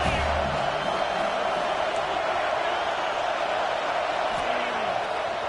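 A stadium crowd at a college football game roars steadily on a 3rd and goal near the end zone, a dense, continuous wash of noise with no clear peaks and faint voices mixed in.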